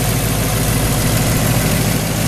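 A 1964 Ford Galaxie's original 352 V8 with a four-barrel carburetor idles loud and close, a steady deep rumble with an even low throb that runs unbroken and without talk.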